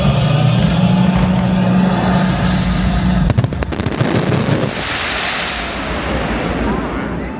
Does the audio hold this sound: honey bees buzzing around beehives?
no